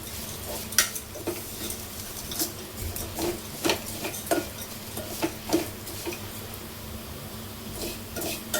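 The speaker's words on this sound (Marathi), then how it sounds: "स्लो गॅसवर आपल्याला शेवाळ्या भाजून घ्यायच्या आहे" Wheat vermicelli roasting in a pan over a low gas flame, with steady soft sizzling and a series of close scraping, tapping stirs at an irregular rhythm, no voices.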